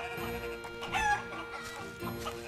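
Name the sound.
hen clucking in video game Baldo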